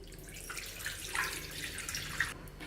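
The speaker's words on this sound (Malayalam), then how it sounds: "ഇനി നമുക്ക് വേറൊരു ബൗൾ എടുക്കാം. അതിലേക്ക് 5 കപ്പ് വെള്ളം ഒഴിച്ചു കൊടുക്കാം." Five cups of water poured into a bowl while making panipuri, a steady soft pouring and trickling splash that runs for nearly three seconds at moderate level, without any voice over it.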